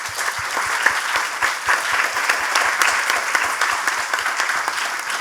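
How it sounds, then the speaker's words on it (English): A conference audience applauds three panel speakers at the close of the GYLS 2019 Leaders Dialogue session, with steady dense clapping that fills the room evenly for the full stretch, plus a few low thumps beneath and no talk. "Let us give them a big round of applause"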